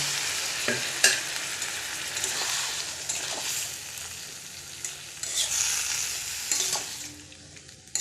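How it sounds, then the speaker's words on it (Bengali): Boiled potatoes are stirred into spice masala and fry in a pan, giving a steady loud sizzle with spoon scrapes and knocks throughout, and no voices. "এবার মশলাগুলো কষা হয়ে গিয়েছে, এবার আলু সিদ্ধটা দিয়ে দিলাম।"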